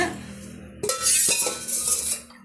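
A utensil stirs rice batter in a metal pot, starting with a clatter and then scraping and knocking against the sides in a close, busy run of strokes, with no voices.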